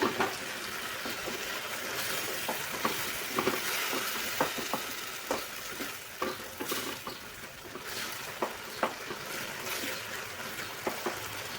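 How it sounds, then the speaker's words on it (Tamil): Tomato chutney sautés in oil in a pan, with a continuous soft sizzle under scattered light taps and scrapes of stirring across the whole stretch, close by and without talk. "ஒரு நிமிஷத்துக்கு அப்படியே எண்ணெயிலே அப்படியே வணக்கிக்கோங்க."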